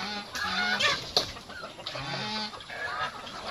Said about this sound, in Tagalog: Una niyang binigyan yung mga manok.